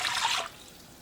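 Water poured into a cooking pot while making a pantry stew with wine and Worcestershire sauce, a close, splashing pour for about half a second that then trails off into quiet.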